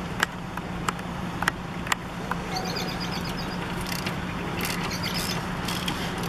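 A 17 mm socket wrench loosens the upper ball joint bolt on a Honda Accord, giving a few sharp ratcheting clicks over a steady mechanical background hum, close by.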